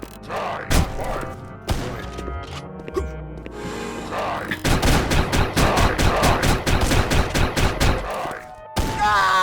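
Rapid automatic gunfire from a hitscan weapon in a retro first-person shooter, loud sustained bursts of evenly spaced shots against in-game music and effects.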